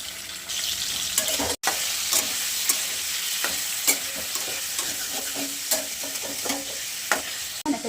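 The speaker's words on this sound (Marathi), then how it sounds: "थोडस तेल टाकते मी ना आपण हे शिजवून घेणार आहे" Chicken sizzles and fries in oil in a pan, a steady close crackle with repeated stirring scrapes throughout and no talk.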